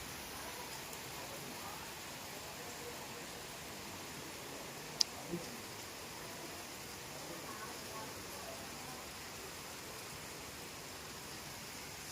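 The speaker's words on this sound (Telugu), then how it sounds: "బయట వాన వస్తుంది పెద్ద" Heavy rain falls outside as a steady, faint, even hiss with no breaks, heard from indoors over a home kitchen's quiet background.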